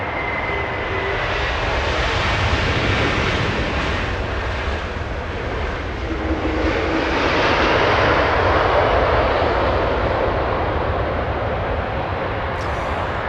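Jet aircraft roaring steadily at Los Angeles International Airport, a loud, continuous broadband engine rumble sustained throughout, swelling slightly near the middle, with no voices.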